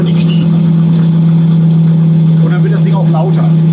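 An Audi RS4 sedan with an upgraded engine, billet oil pan and dry-sump lubrication idles with a loud, steady low hum and whir as the oil pump works against pressure, someone talking over it.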